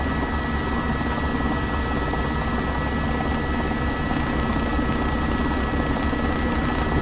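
An H125 helicopter in the X-Plane 12 simulator drones on with a constant rotor and turbine roar, broadband and unchanging throughout, with a thin steady whine on top and no talk.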